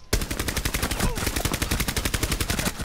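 Rapid automatic gunfire in a video game lands a headshot, with a dense, evenly spaced burst of loud shots running almost nonstop for about three seconds.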